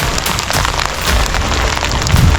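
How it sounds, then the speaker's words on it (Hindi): Hail pelting a mountain meadow on the trek to Shrikhand Mahadev, a loud, dense, continuous patter of close impacts with no pauses. "उसमें अगर ऐसे ओले गिरे"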